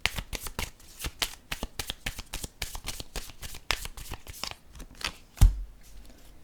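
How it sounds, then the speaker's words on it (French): A deck of cards is shuffled close up in rapid, crisp riffles, and a single card is then drawn and set down with a soft thump near the end, with no talking. "Je vais piger une carte de ce jeu."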